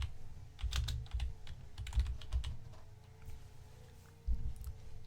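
Keys clatter on a computer keyboard in short bursts of close, soft taps with a pause in the middle before a final flurry, no voices over it.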